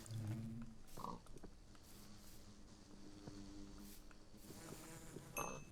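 Faint insect buzzing of bees in Minecraft, like bees droning, with a few soft clicks and blips scattered through a quiet background.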